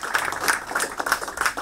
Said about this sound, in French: elles reçoivent un chèque et un tonnerre d'applaudissements